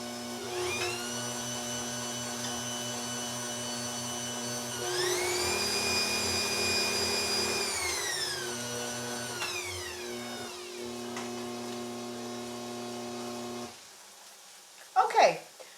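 An electric mixer whirs sugar and butter together for a poppy seed cake, a steady close motor hum that rises in pitch for a few seconds and then settles before cutting off, followed by a brief clatter.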